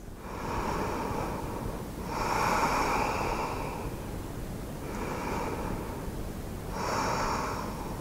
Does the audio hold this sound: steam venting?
no